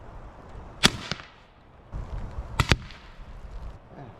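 A Benjamin Airbow being cocked and fired: two sharp, loud cracks separated by a couple of seconds, the second a quick double snap, each followed by a short fading whoosh over low background rustle.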